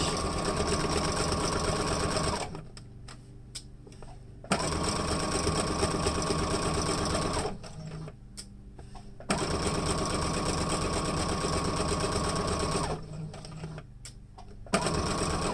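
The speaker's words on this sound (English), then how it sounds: "Now I'm reaching the end, so I'm going to go ahead and back stitch." Sewing machine stitching fabric for a face mask, running in steady bursts with a back stitch near the end of the seam, loud and close, pausing between runs.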